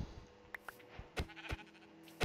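Sheep in a modded Minecraft game bleat several times, short separate calls spaced irregularly over a faint background.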